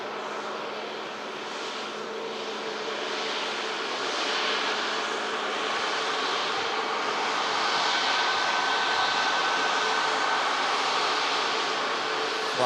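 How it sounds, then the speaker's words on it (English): Lufthansa Airbus A319 jet taking off from Manchester Airport for Munich, a sustained broadband engine roar with a low tonal hum that grows slightly louder as it continues, no voices. "Next aircraft out, looks like it's gonna be the Lufthansa though for Munich, the A319"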